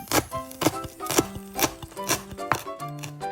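Animated kitchen scene with a cutting board being chopped on: a run of sharp, evenly spaced knocks, about seven or eight in quick rhythm, set against bright tonal music-like tones, loud and close with no talking.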